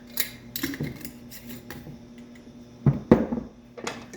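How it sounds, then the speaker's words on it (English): A utensil scrapes and clinks against a bowl while apple pie filling with molasses sugar is stirred, with irregular close taps and a couple of sharper knocks. "Then from there, I stir it up, make sure everything is in."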